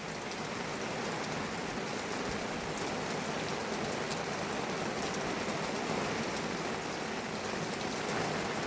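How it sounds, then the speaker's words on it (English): Heavy rain pours down outdoors beside a sheltering awning after a hot, sunny day, a dense, steady hiss of drops close by with no break or pause and no voices. "It's pouring."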